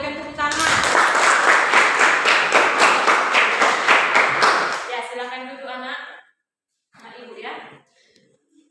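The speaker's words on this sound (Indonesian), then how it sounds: "Ayo berikan tepuk tangan." Students in a classroom clap together in a quick, even rhythm for about four seconds. The clapping then stops and a few voices speak briefly over quiet gaps.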